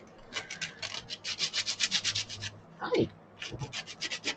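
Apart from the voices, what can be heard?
rubbing with sandpaper in a craft area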